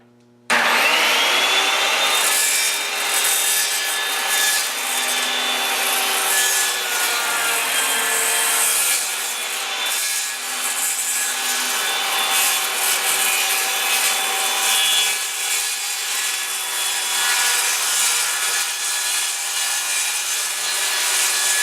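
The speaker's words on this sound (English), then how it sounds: "just run my saw right across" A very thin-kerf hand saw cuts through wood for a homemade media blasting cabinet, producing continuous close, loud rasping strokes that run steadily for the full stretch without talk.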